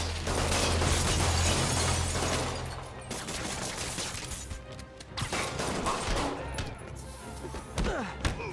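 Gunmen fire at Spider-Man in the PS4 video game, producing rapid crackling bursts and thuds of shots over clattering action, with a brief shouted voice in the mix.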